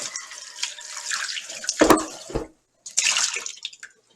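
Kitchen tap water runs over potatoes being wetted for peeling, a steady splashing stream that briefly stops near the middle, then resumes and fades out, close and fairly loud.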